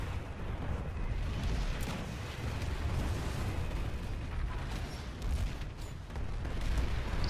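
Continuous gunfire and explosions in the game Planetside 2 rumble and crackle, with dense bursts and booms layered over each other at moderate loudness.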